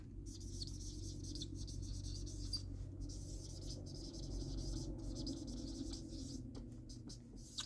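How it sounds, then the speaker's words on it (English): A dry erase marker squeaks and rubs across a surface in continuous strokes for several seconds, close up and fairly quiet, with no voices. "I have a dry erase marker and let's see how it works."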